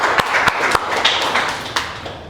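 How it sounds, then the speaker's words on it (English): A small audience claps for a presenter at an AI agent training session. The clapping is scattered and brief, with a few sharp, distinct claps over a light patter that fades out. "Let's give her a round of applause"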